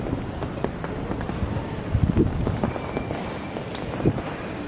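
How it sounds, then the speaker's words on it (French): Wind buffets the microphone outdoors in a steady rumble, with scattered soft taps and gusty bumps that could be rain. "Il y a du vent, il y a de la pluie."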